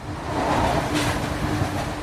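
A passenger train heads toward Peterborough with a steady, loud rumbling roar of wheels on rails, a continuous broadband noise without distinct clicks and no voices.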